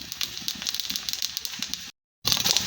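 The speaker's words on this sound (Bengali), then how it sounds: "গোটা জিরে ফোড়ন দিব" Whole cumin seeds dropped into hot oil crackle and spit in quick bursts, close by, broken by a short silent gap before the popping resumes.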